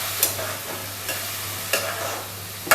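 Masala spices with a splash of water sizzle steadily in a pan for achari bhindi, a continuous close frying hiss punctuated by four sharp scrapes of a stirring spoon.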